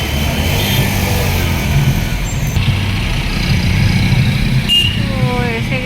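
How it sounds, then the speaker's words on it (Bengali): Heavy road traffic with buses near a metro station: loud, continuous engine rumble from passing trucks and buses, with a hiss of air brakes and a few short horn-like tones over the dense roar. "এখানে প্রচণ্ড ট্রাফিক হয়, এখান থেকে অনেক বাইরে দূরের বাসগুলো যায়"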